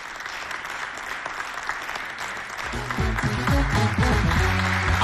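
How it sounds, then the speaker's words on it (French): An audience at a school-themed show event in francophone Africa breaks into applause for a minister, faint crowd murmur first and then a building wave of clapping over the last two seconds. "sous vos applaudissements, je vous demande d'accueillir Madame la ministre"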